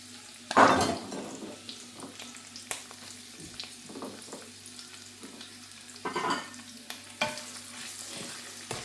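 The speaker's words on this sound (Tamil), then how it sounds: "இது கொஞ்சம் வெங்காயமும் இதெல்லாம் கொஞ்சம் தாளிக்கிறதுக்கு" Chopped onions sizzle in hot oil while tempering in a pan for egg biryani, with a loud burst of frying as they go in, then quieter crackling and occasional stirring scrapes.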